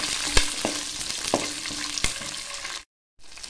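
Small onions frying and being stirred in a pan for a Tamil garlic and bitter gourd tamarind curry. A close, steady sizzle carries several sharp spoon-scrape clicks, then cuts out briefly near the end.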